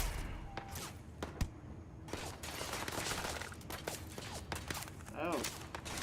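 Gunfire aimed at a robot in the video game Starfield, heard as bursts of rapid shots and thuds mixed with footsteps and game effects while a voice talks over the action.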